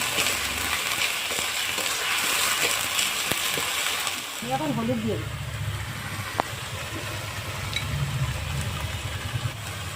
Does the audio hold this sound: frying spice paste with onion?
yes